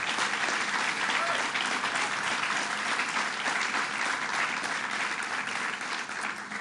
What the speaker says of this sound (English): can we please give him another round of applause for that?